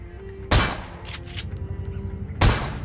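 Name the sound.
shotgun shots in PUBG video game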